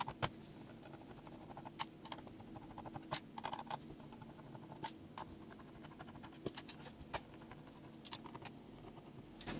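Screws being removed from the back of an LED downlight, giving faint, scattered small clicks and scratchy metallic ticks at irregular intervals in a quiet room.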